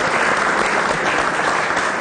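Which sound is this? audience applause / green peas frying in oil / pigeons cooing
audience applause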